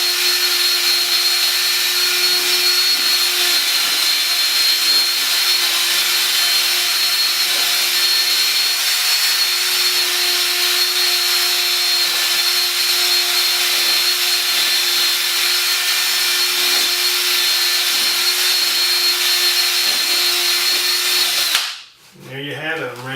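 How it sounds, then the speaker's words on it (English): Steady high-pitched whir of an electric buffer polishing dust off a shoe, running continuously and evenly for about twenty seconds before abruptly stopping with a brief clatter. "I'm just gonna do this buffer here,"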